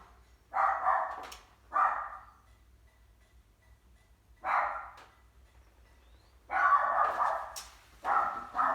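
A dog barks in several short bursts separated by pauses, fairly close and loud, with a quiet background in between.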